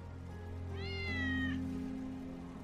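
A cat in the video game Final Fantasy VII Remake gives one drawn-out meow over a steady low ambient hum, clear and fairly close with no talking.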